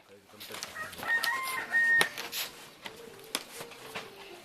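A rooster crows near a house in Ziro, its call rising with a bright tonal stretch, set against a busy room tone with faint voices and clatter around it.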